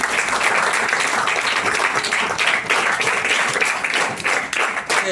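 An audience applauds at a branch library's national library week celebration, a dense sustained clapping that fills the room for several seconds without any break.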